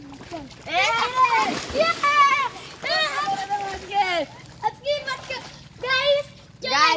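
Bare feet being washed with splashing water outdoors, short splashes and splatters running through the clip beneath several overlapping voices, including children talking close by.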